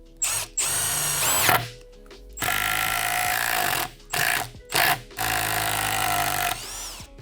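A green Metabo HPT cordless drill whirs in close, loud bursts, triggered repeatedly: one long run, then several short on-off pulses with brief silences between, while the user handles it blindfolded.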